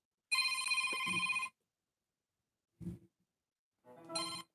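A telephone rings for an incoming call with one long electronic chirping ring, followed a moment later by a short clipped burst and a second ring starting, all clear and close in an otherwise quiet room.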